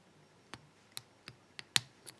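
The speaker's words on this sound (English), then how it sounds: "You heard a click. That was pin 1." Small sharp clicks from a dial padlock with an override option being picked under tension as its pins set, six brief isolated ticks spaced irregularly over about two seconds, close and quiet.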